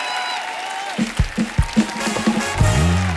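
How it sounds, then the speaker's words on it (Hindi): Studio audience applause for guests on a Hindi comedy talk show, with loud rhythmic clapping and crowd noise that swells for a few seconds after a brief opening of music. "एक बार जोरदार तालियां हमारे मेहमानों के लिए"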